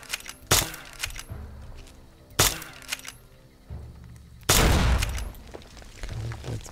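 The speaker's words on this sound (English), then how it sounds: "Let's take out our BB gun." Three sharp BB gun shots in Fallout: New Vegas, each a crisp crack with a short tail, well spaced, the last one louder and longer over a faint background.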